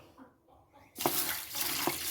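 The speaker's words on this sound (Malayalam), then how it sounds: "ഈ 1 പിടി ചെറുപയറും ചേർത്ത് ഇത് നന്നായിട്ട് വാഷ് ചെയ്യും" Water splashes and sloshes as a handful of green gram is washed by hand, starting after a quiet pause and continuing with close, loud swishing and a couple of sharper splashes.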